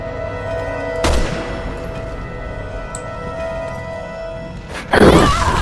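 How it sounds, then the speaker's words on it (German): Explosions in the video game Resident Evil 6: a sharp blast near the start, then a louder, heavier boom toward the end over a steady hum of game sound, with no talk. "War da jemand hinter dir explodiert oder was?"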